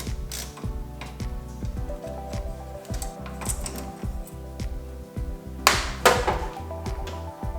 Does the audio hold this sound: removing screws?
yes